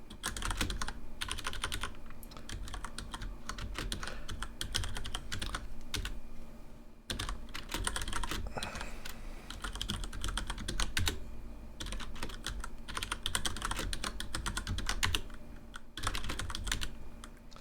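A program is typed on the Famicom Family Basic keyboard, giving quick bursts of plastic key clicks at an irregular pace with short pauses between runs, close and clear.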